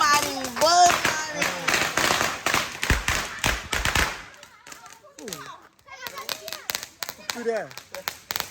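Sharp firecracker pops burst in a rapid cluster on Hari Raya night, mixed with excited children's voices and shouting; after a brief lull, the kids keep chattering.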